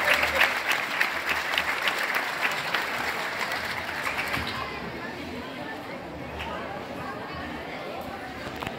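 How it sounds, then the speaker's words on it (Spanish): Applause from an audience at a high school graduation ceremony in Guerrero, Mexico rises as a sustained clatter of clapping and then thins toward the end, with chatter underneath. "Fuerte el aplauso para estos jóvenes."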